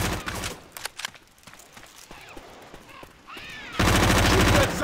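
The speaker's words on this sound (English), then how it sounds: "Shoot that zombie in the back!" Video game gunfire aimed at a zombie: rapid bursts of shots come in clusters, then a loud continuous volley at the end, with a voice talking between them.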